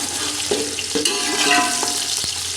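Chopped onions and cumin seeds fry in about 250 ml of hot oil in a pan, with a steady close sizzle and a few soft clinks and stirring bumps.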